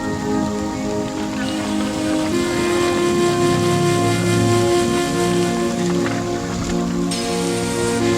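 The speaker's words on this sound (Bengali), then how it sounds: "এত বৃষ্টি পড়ছে" Steady rain pours down beside the Lalgarh river bank, a dense continuous hiss of drops on water and surfaces with a low rumble underneath, loud and unbroken throughout.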